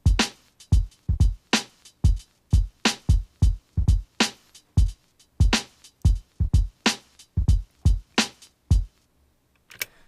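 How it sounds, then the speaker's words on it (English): Dry, unprocessed drum beat playing alone: punchy low kicks and sharp snare and hat hits fall in a steady, busy groove for about nine seconds, then stop. "that's the drums in their dry form"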